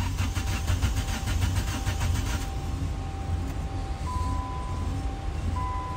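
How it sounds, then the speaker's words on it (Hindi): A Nissan Sunny with its security light stuck on cranks but fails to start, a loud rapid rhythmic starter churn for a couple of seconds, then the engine noise continues steadily without catching. "ये देखें जी, गाड़ी स्टार्ट नहीं हो रही।"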